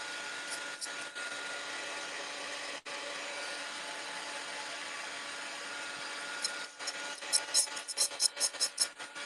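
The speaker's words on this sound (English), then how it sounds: "your dryer is so loud now" A loud dryer runs indoors as a steady, even whooshing hum that fills the whole stretch, with a brief dip midway and some quick rattling bursts near the end.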